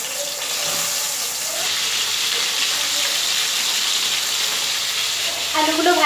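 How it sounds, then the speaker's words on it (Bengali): Potato pieces coated in salt and turmeric fry in a hot pan, giving a steady, close, continuous sizzle that grows slightly louder near the end. "আলুগুলো ভাজছি আমি।"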